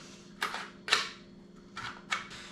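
Old-style steel gun magazines are handled close by, giving four or five brief metallic clacks and rattles at uneven intervals over a quiet background.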